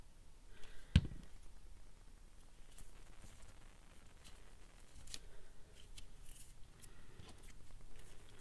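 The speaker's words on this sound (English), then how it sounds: "This one's just a hole punch because they don't cut any this small." A handheld hole punch snaps once through paper, a crisp, brief click close by, followed by soft handling and rustling at low volume.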